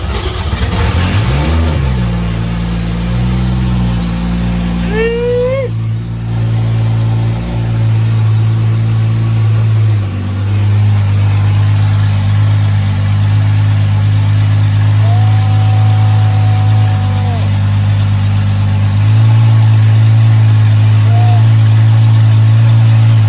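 A Toyota 2JZ engine cranks, catches and fires up for the first time, then settles into a loud, steady idle close by, with a brief rev and a voice speaking over it.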